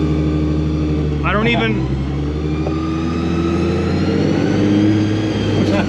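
Supercharged Nissan 350Z with a ProCharger engine droning and revving steadily while driving, loud and continuous from inside the car, with voices talking over it.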